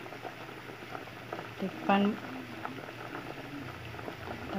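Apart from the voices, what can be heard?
sweet potatoes boiling in a pot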